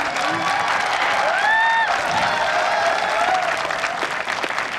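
An audience at a traffic-awareness event gives sustained, dense applause from start to finish, with a short rising whistle-like tone briefly sounding above the clapping.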